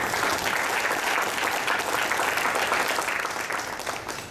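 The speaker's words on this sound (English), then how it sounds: "Let's give UPS a round of applause" An audience at an evening event applauds in a dense, steady round of clapping that fades slightly toward the end.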